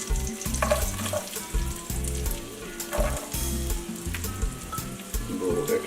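Onions fry in a thin film of oil for black rice diri djon djon, giving a steady close sizzle with crackling bursts and no talk over it.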